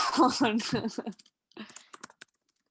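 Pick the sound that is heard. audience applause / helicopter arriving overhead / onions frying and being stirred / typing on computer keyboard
typing on computer keyboard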